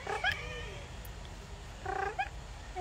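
A cat gives two short, high meows about two seconds apart, close and fairly faint, over a quiet room hiss.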